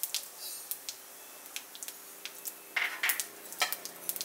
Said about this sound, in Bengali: এই তেলের মধ্যেই আমি ফোড়নটা দিয়ে দেব। তেজপাতা, শুকনো লঙ্কা, গোটা গরম মশলা আর গোটা জিরে।